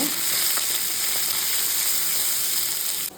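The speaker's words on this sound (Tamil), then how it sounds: "வெங்காயத்தை நல்லா வதக்கிடுங்க." Chopped onions sautéing in coconut oil in a pan, added after green chillies, give a steady, dense sizzle close by that holds unbroken for about three seconds before cutting off.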